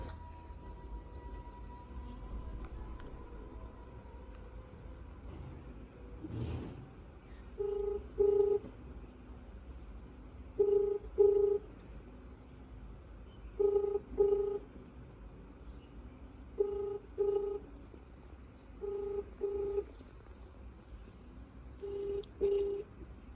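Faint background hum runs throughout while a phone sounds repeated pairs of ringback beeps at regular intervals after a call is placed. No one speaks.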